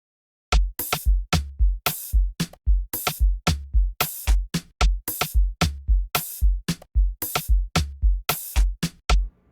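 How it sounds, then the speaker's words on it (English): Amapiano drum loop built in FL Studio with layered toms, booming kicks and toms driving a dense, punchy rhythm under crisp hat and snare hits, repeating steadily and loud without any talking. "And then as usual, I layer the toms to make it punchy."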